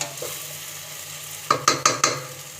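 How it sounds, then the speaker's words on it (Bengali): Boiled potatoes are stirred in a cooking pan over a soft background sizzle. After a quiet start come four sharp, close scraping strokes in quick succession. "হালকা একটু নেড়ে নেড়ে দিতে হবে"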